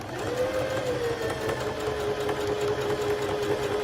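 Bernette b05 sewing machine running at slow speed, a steady close mechanical whir with a fast rhythmic needle chatter, continuous and even throughout with no voices.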